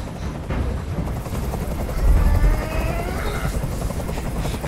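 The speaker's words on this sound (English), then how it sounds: "Tell that helicopter to get out of here." Helicopter from the video game Detroit: Become Human, a steady loud rotor thump and engine drone running throughout with a heavier swell midway, amid layered game effects.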